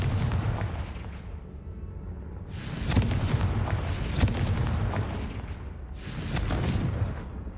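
Confringo fire spells blast in Hogwarts Legacy, three loud booming bursts at roughly three-second intervals over a constant rumbling game background.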